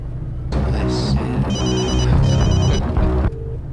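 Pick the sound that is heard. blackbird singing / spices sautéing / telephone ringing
telephone ringing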